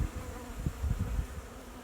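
A low, steady buzzing of many honey bees hums up close at an open Layens hive during a fall inspection, soft and continuous with slight swells.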